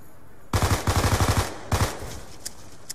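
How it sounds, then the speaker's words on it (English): Rapid pistol shots emptying a clip in Call of Duty zombies, a quick string of about ten sharp loud cracks followed by a shorter burst, then faint clicks and quiet. "Just empty a whole clip of pistol ammo into that guy"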